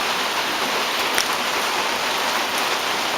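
Steady rain falling outdoors in Auckland, a dense even hiss of drops on surfaces that holds constant and fairly loud, with no voices.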